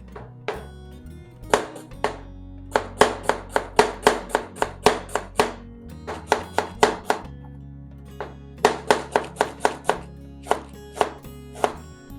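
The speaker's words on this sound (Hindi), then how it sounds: "सबसे पहले स्लाइस कर लेते हैं प्याज को। थिन स्लाइसेस में कट कर लेना है" Medium onions sliced thinly with a knife on a cutting board, giving rapid bursts of sharp, crisp chops in quick rhythmic runs with short pauses between, close and loud.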